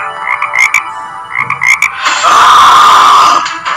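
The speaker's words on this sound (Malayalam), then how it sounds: "ഇവിടെ തവളകളുടെ ശബ്ദം കേൾക്കുന്നുണ്ടല്ലോ." Frogs croaking near a pond in marshy ground: several close, loud rhythmic croaking bursts in quick pulses, then a sustained dense buzzing chorus before tapering off, with no one speaking.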